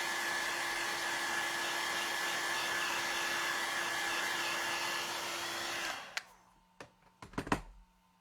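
A hair dryer blows steadily on a wet painted craft project, a loud continuous whooshing hum with a tonal whine, then switches off, leaving a few soft clicks and handling knocks.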